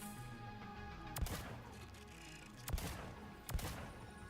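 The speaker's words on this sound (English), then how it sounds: "Look, we got a new pistol." Three single pistol shots in Mass Effect 3, spaced a second or more apart, sharp but fairly quiet over a steady low game background hum.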